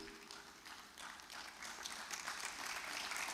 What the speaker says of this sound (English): Shall we please, with a clap of friends, receive our keynote speaker,